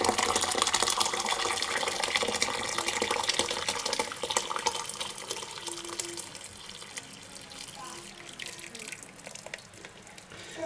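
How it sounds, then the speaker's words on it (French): Hot water poured from a kettle over glass canning jars of homemade vegetable preserves, a steady running, splashing flow that stays fairly loud and then eases slightly toward the end. "Et on rajoute de l'eau chaude."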